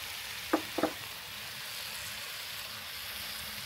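Beaten egg for a semai vermicelli pizza hits a hot pan, giving two quick soft knocks early on, then an even, moderate frying sizzle that holds to the end.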